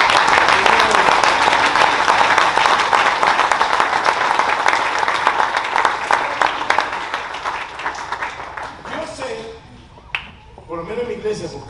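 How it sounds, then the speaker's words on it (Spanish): A church congregation stands and applauds strongly for Jesus during a sermon, dense clapping filling most of the stretch before thinning out as a voice begins speaking near the end. "Y le den un aplauso fuerte a Jesús"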